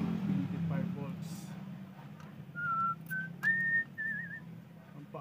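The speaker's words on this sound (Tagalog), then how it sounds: "Ang paaliw-aliw sir sa sipol-sipol." A person whistles a few short tonal notes, some sliding or wavering, in a quiet workroom during CRT TV repair, with a low hum and faint talk in the background.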